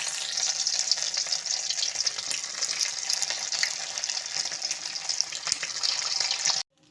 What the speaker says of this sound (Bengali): তেলটা গরম হয়ে গেছে, এগুলো ভেজে নেব এখন।